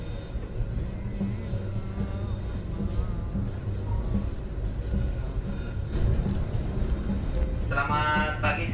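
Economy and executive Pangrango passenger train on a double-track line between Bogor and Sukabumi, a steady loud rumble of wheels on rails with a brief high squeal near the end.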